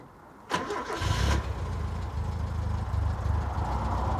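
A 1970s classic car engine with the choke pulled out catches and starts with a sharp burst, then runs on as a loud, steady, uneven rumble close by, with no voices.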